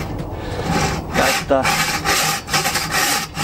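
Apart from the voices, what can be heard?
hand saw cutting wood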